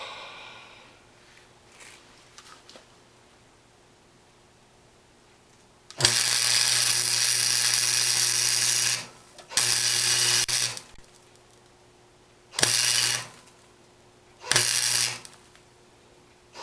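A buzz box stick welder strikes an arc on a lightweight steel bracket for a GMC Safari grill and bumper, producing four loud bursts of harsh crackling buzz separated by quieter stretches of low electrical hum.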